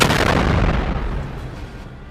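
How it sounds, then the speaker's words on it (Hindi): Missile striking the front of a ship at sea: one heavy, close blast that starts at full force and fades into a long rumbling tail. "जैसे ही ये मिसाइल जहाज के आगे के हिस्से पर लगती है, वैसे ही उसमें जोरदार धमाका होता है"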